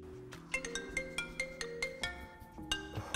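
A melodic phone ringtone for an incoming call plays alone, a repeating pattern of bright chiming notes with steady rhythmic pulses, close and clear, with no talk.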